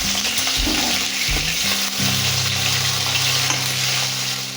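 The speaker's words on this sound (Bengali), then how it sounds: "এবার মাছগুলোকে আমি উল্টে অন্য পিঠ ঠিক একইভাবে ভেজে নেব" Fish pieces sizzle in hot oil in a home kitchen pan after being turned, a loud continuous crackling fry with a few clinks of a utensil early on and a low steady hum beneath.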